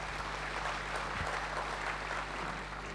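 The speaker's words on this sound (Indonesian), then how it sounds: "Berikan tepuk tangan yuk." Church congregation clapping during a sermon, a short dense burst of applause held for about three seconds, steady and moderately distant.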